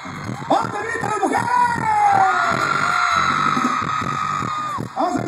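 A concert crowd of women at a 2012 Expogan norteño show in Chihuahua, Mexico, shrieking and whooping loudly, with sustained rising and falling cheers throughout.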